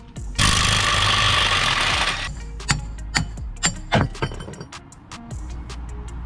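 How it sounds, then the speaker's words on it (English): A power tool roars steadily for about two seconds while breaking loose the axle nut on a VR6 Jetta wagon. Sharp metallic clanks and knocks from tools and parts follow. "We're gonna use this to break our axle nut free."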